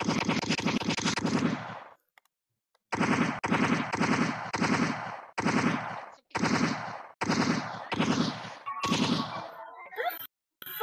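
Machine gun fire in a Deadpool video game set in an apartment building, loud close bursts that repeat in a rhythm of sustained volleys split by short pauses, ending with a few sharp shots.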